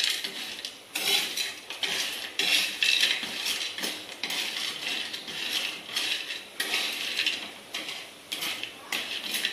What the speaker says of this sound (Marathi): चाललंय माझं माती भाजायचं काम. माती भाजते माती.